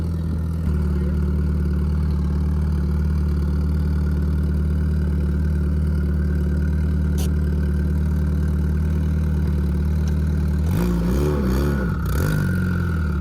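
Inside a turbocharged Honda Integra GSR on the street, a steady droning engine hum holds for several seconds before the pitch dips and rises as the engine note changes near the end.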